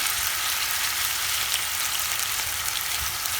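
Half a pound of ground turkey browning in a pan, a steady bright sizzle that holds level and close without a break and with no voices.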